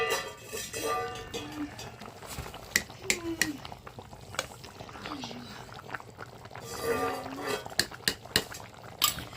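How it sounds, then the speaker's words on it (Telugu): Fish curry simmering outdoors in a pot, a low bubbling and faint gurgle under intermittent speech, with occasional clinks of utensils and pot lid. "చేపల పులుసు బయట మరుగుతూ ఉంది."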